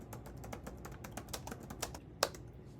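Rapid typing on a computer keyboard, a steady run of light close-up key clicks with one sharper, louder tap near the end; no talking.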